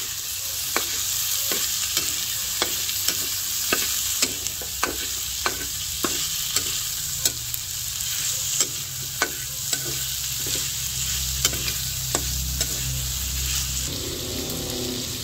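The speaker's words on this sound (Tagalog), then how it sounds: "Ilalagay ko na po itong bawang at sibuyas. Akin na pong pagsasamahin. Akin na pong pagsasabayin. Akin lang pong hahaluin." Garlic and onion sautéing in a pan with a continuous sizzle, punctuated by a steady series of sharp spatula scrapes and taps as they are stirred.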